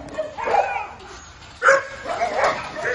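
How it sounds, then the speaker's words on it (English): Puppies and their mother dog, found near smoldering wildfire ash, whimper and bark in short bursts close by, with a sharper yelp near the middle. "These dogs are lucky to be alive."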